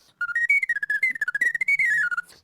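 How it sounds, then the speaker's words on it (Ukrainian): A whistle built into a varenyk dumpling, blown in a rapid warbling run of short chirping notes that rise and fall, loud and close, with no talk over it. "це моя ідея зробити вареник е, з свистулькою"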